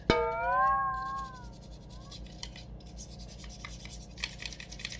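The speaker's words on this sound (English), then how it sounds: "I'm just cleaning this with this, getting in there, scrubbing better than most people brush their teeth." A retro game controller is scrubbed clean with steady, soft brushing and rubbing, faint and close. It opens with a short tonal squeak, and quiet scratchy strokes run underneath throughout.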